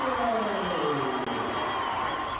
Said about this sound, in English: She hit the shot, and the crowd went wild.